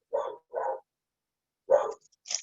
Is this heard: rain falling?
no